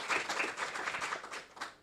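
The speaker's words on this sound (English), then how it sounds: "Come on, a round of applause for that." Audience applause at a magazine release event, a brief burst of steady, moderately loud clapping that fades slightly at the end.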